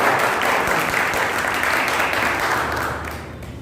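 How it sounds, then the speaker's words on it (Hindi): Loud, dense applause from an audience of children and guests greeting a speaker at a school road-safety quiz event, sustained throughout and tapering slightly at the end, with no talk. "जोरदार तालियों से स्वागत करें।"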